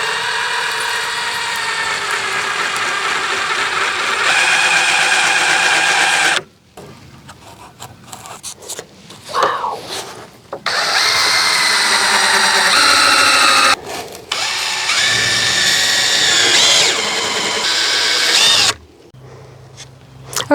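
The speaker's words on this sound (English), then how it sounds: "When we screw through this foam, if I just use a screw, it's going to go straight through the foam" Power drill driving screws through foam insulation boards, loud whirring bursts broken by short pauses and brief quieter gaps, several separate runs of the motor close up with no talk.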